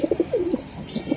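A racing pigeon cooing close up, a rapid run of soft warbling coos in quick succession with no voices over it.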